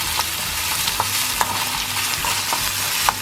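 Pandan leaves, chopped onions, ginger, garlic, curry leaves and cardamom pods frying briskly in a pot, a bright steady sizzle with regular light clacks of a stirring spoon, no talking.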